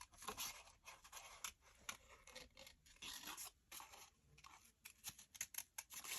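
Scissors fussy cutting a small paper butterfly, with quick repeated snips and light scraping of blade on paper, close and soft, in an uneven rhythm.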